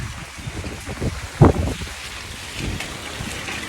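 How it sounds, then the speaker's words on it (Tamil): Cyclone wind rumbles and buffets against the microphone in gusty bursts, with one sharp blast standing out amid a broad hiss, in Chennai, Tamil Nadu. "சரியான காற்று"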